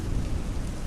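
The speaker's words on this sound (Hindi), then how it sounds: "बारिश की आवाज़ थोड़ी धीमी हुई थी।" Heavy rain falls at night, a dense, loud, steady roar with a deep rumbling low end and no pauses.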